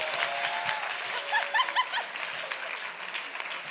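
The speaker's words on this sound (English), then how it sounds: "Please give him a huge round of applause." Audience at an event applauding Andrew Quinn, leader of the New Voices Fellowship Program, moderate steady clapping from a room of people with a few brief vocal sounds mixed in.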